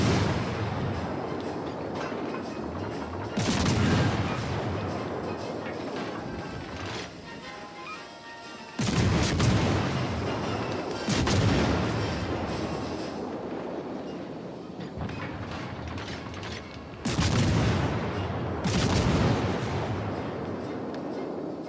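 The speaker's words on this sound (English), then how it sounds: "he is shooting at me" Naval gunfire from an enemy warship in World of Warships: Legends, with deep, heavy salvos booming repeatedly at irregular intervals, each followed by a long rumbling decay over constant engine and sea noise.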